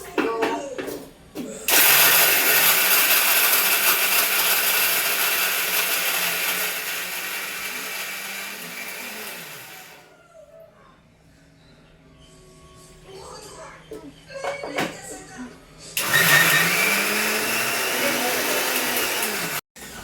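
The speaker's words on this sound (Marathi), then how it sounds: "तर आता मी ग्राइंड करते" A dosa batter grinding mill roars loudly and steadily, drops to a low rumble with clanks partway through, then surges back to full power near the end; a voice talks briefly at times.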